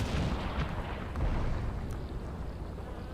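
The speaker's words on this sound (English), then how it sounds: "That's a much heavier mortar," Heavy mortar shells explode in the WWII strategy game Combat Mission Battle for Normandy, a dense, continuous rumble of overlapping booms that stays loud throughout the short stretch, with no talking.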